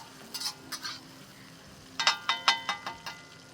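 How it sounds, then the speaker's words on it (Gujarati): A spoon stirs eggplant dish ingredients frying in ghee during village-style outdoor cooking. Soft sizzling runs throughout, with a few scraping, clinking stirs early on and a denser burst of stirring later. "એને પણ સરસ રીતે હલાવીને થવા મૂકી દેશું. આ બધું આપણું ઘીમાં થઈ રહ્યું છે"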